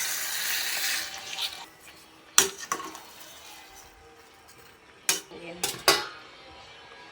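Pork and chicken adobo gets stirred in a pot with a metal spoon, giving several sharp, loud clanks and scrapes against the pot after a stretch of softer background noise, with a brief spoken word.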